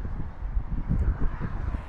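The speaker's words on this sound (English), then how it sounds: "Oh, a bit windy." Gusty wind buffeting a microphone while riding a motorcycle on the road, a low rumbling roar that swells and fades unevenly, close and fairly loud with no voices.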